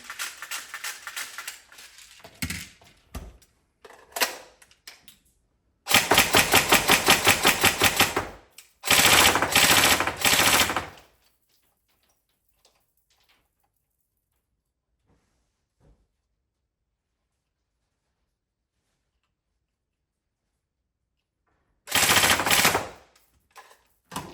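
A Tokyo Marui M4 Socom NGRS airsoft electric gun fires rapid full-auto bursts on test, several long buzzing strings separated by short gaps and a stretch of silence, then one final burst.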